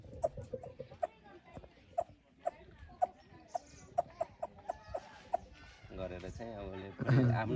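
A man imitates a hen clucking to call her chicks, a run of sharp, evenly spaced clucks followed by a louder, rougher cackling burst near the end.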